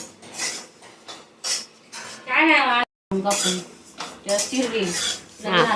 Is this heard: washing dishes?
yes